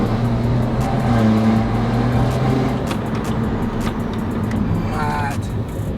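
A BMW 118i converted with a B58 M140i engine drives along, its engine hum steady and smooth with tonal drone, road noise continuous throughout and a near, fairly loud level.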